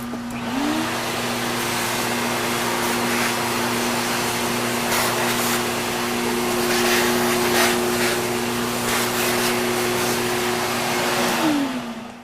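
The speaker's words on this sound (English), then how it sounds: "Take the vacuum, clean it out, and let's take a look at it." A vacuum cleaner runs steadily for about twelve seconds while cleaning out a part, a loud constant whine and hum that starts up and winds down at the end, with faint clatter of debris along the way.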